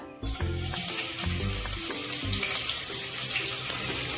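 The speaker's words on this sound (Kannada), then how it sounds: "ಇವಾಗ ಎಣ್ಣೆ ಕಾದಿದೆ ಇದಕ್ಕೆ ಈರುಳ್ಳಿ ಹಾಕೊಳ್ಳೋಣ" Onions hit hot oil in a pan and set off a loud, continuous sizzle and crackle that holds steady throughout.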